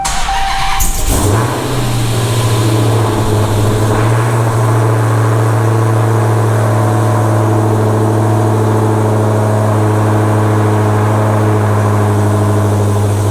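A modified 1500hp Dodge Challenger SRT Hellcat fires up for the first time: a short cranking burst, then a loud, close engine settling into a steady, deep idle.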